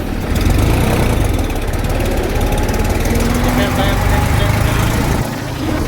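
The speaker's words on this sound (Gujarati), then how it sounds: "આપણે ટ્રેક્ટર કરી દીધા હાલતા." A tractor engine runs loud and close in a dense, steady diesel rumble and rattle as the tractor drives off, holding constant throughout.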